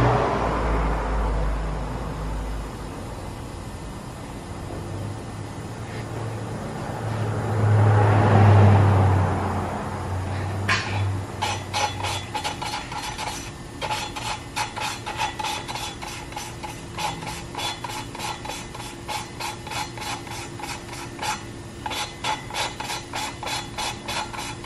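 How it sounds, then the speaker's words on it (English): Hand lapping of Honda K-series cylinder head valves with an aluminum rod: a steady, close rhythmic rasping and scraping that repeats many times in quick strokes, with a heavier rubbing burst before the regular strokes begin. "so you can connect with the valve and do the lapping job by hand"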